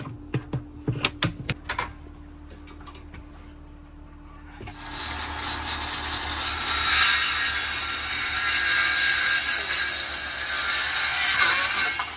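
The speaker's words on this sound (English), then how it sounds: "Unscrewing the screws that have the boards connected." Screws being unscrewed from boards inside a camper van, a few close ratcheting clicks and knocks at first, then a long, harsh whirring, grinding buzz of a power driver that swells and fades, no voices.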